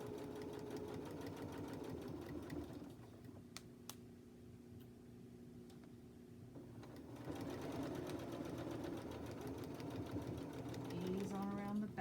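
Sewing machine stitching fabric for a scrappy Easter bunny, running in a fast steady mechanical whir with rapid needle ticks, briefly pausing midway before resuming loudly close up.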